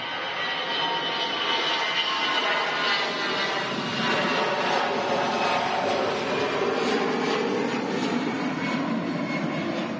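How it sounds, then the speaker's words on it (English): An EasyJet airliner at Manchester Airport produces a loud, sustained roar of jet engines that stays steady and close throughout, with no talk over it. "the reg on this EasyJet A380, heading off to Munich in Germany."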